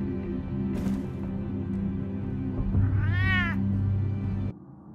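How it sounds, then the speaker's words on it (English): A cat gives one drawn-out, close meow in the video game Batman: The Telltale Series, rising and falling over a steady low game soundtrack drone that cuts off near the end. "Meow is right."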